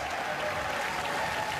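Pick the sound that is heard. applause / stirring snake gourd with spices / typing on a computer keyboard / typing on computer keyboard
applause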